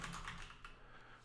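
Quick, faint clicking of fingers typing on a computer keyboard, a short burst of keystrokes heard alone.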